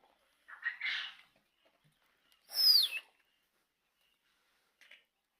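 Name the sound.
Faumi quail birds calling in a pen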